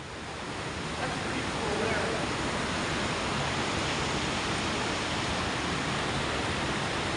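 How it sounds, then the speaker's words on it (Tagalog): Chittenango Falls in Cazenovia pours steadily, a loud, dense, unbroken roar of rushing water that fills the whole stretch at an even level with no pauses. "This is all the waters come down, going to the falls."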